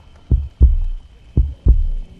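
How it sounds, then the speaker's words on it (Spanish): A deep heartbeat sound effect for a Tell-Tale Heart narration: two close, loud lub-dub double thumps with a steady rhythm, heard alone with no voice. "pero el latido subía de punto a cada instante, hasta que creí que el corazón iba a estallar"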